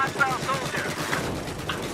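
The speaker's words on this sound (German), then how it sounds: "diese Kanone hier schießt" Rapid cannon gunfire from a vehicle-mounted gun in the video game Battlefield 4, a dense, continuous burst of shots with battlefield noise, loud and close throughout.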